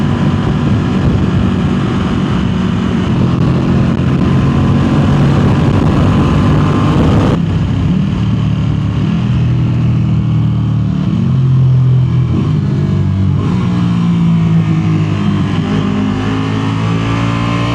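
A Ducati Panigale V2 motorcycle engine revs loud and close, its rumbling tone climbing and falling through repeated throttle blips with a sharp drop partway through, no voices.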